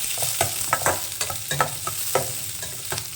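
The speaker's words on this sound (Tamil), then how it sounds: "இது வந்து நல்லா பொன்னிறமாக வர்ற அளவுக்கு நீங்கள் வதக்கிக்கோங்க" Finely chopped onion being sautéed in a pan, a continuous sizzle broken by quick, irregular spatula scrapes and taps, close and fairly loud, with no talking.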